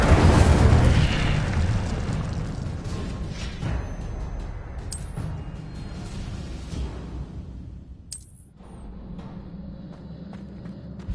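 Incendio fire spells cast in Hogwarts Legacy erupt as loud, booming fiery bursts with whooshing tails, strongest at the start, then rolling on through a dense battle din with sharp magical pings.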